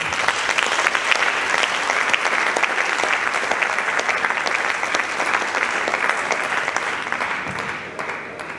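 Sustained audience applause at a language conference, a dense wash of many hands clapping steadily at close range for several seconds before tapering off near the end.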